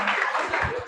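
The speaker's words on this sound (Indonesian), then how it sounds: "Oke, tepuk tangan dulu buat Anda semuanya." Short burst of applause from a school audience of students at a motivational session, a dense clatter of clapping that is brief and fairly loud, with some voices mixed in.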